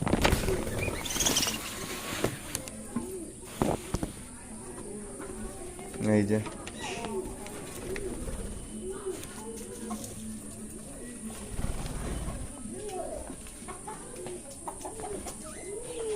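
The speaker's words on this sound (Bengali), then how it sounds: "আর এখানে বর্দি পাখির কলোনি, সমস্ত বর্দি পাখি আছে" A colony of budgerigars in a home aviary chirps and chatters continuously, a busy layered din of small bird calls, with a person talking over it now and then.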